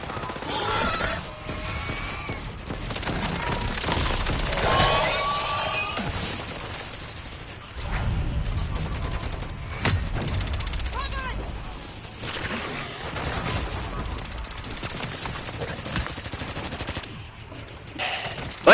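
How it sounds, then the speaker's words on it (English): FAMAS assault rifle fire in a video game: rapid bursts of automatic gunfire with sharp cracks and some crashing impacts, rising and falling in loudness, with voices talking underneath. "c'est le FAMAS"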